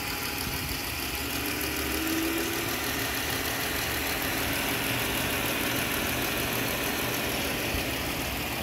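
A 2018 Chrysler 300's engine idles smoothly and steadily from close range, a constant low hum with no talking.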